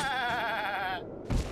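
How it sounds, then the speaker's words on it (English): A goat in The Legend of Zelda: Breath of the Wild gives one long, wavering, close bleat that cuts off, followed by a short dull thump. "It's a goat trying to knock me off."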